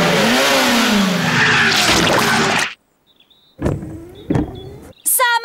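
A cartoon tow truck engine revs hard and loud, cuts out into silence, then comes back in short straining bursts as it tries to pull a stuck car free.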